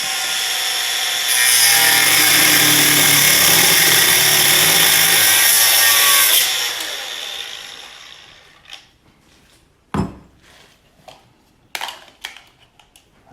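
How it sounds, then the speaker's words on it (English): An angle grinder fitted with a thin cutting disc slices through threaded rod, a loud steady high-pitched grinding whine lasting about five seconds before spinning down, followed by a few sharp metallic clunks and handling knocks. "angle grinder and thin cutting disc. That's the go. Nice and quick,"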